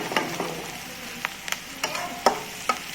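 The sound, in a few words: onion frying in a pan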